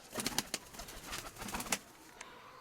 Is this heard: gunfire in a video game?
no